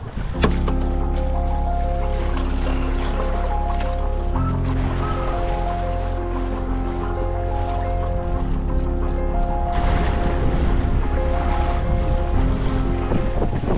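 A sailboat moving fast through waves in stronger wind, a loud steady rush of water and wind noise across the microphone with a low rumble underneath, continuous throughout.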